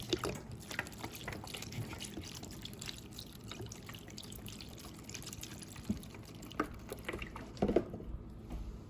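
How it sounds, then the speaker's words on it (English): Broth poured into a pot of vegan soup joumou with cabbage, a soft steady liquid pour and trickle with a few small clinks of utensils, moderately close and fairly quiet, with no talking. "Add more broth."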